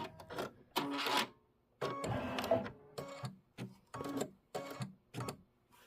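A quilting sewing machine stitches in short bursts, about eight rapid runs of needle clatter separated by brief pauses, close and moderately loud with no voices.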